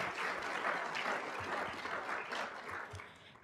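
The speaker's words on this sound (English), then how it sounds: "Let's get another round of applause for all of our inductees." Audience at a technical honor society induction ceremony claps for the inductees, a soft, fairly distant, sustained round of applause that tapers slightly toward the end.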